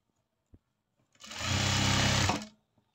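A sewing machine stitches a seam on a chudithar top in one short loud burst of a little over a second, starting and stopping abruptly, with faint clicks before and after.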